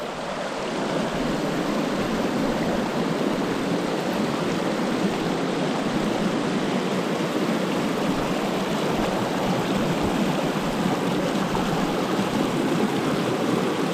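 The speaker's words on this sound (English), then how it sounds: "It's lots of rocks, narrow water gaps, and the water ain't moving too fast." Water flows steadily over rocks and through narrow gaps at a shallow stream crossing, a constant close rushing and burbling with no voices or other sounds over it.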